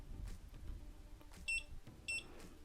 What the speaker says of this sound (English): There's the beep, and it should start blinking blue again.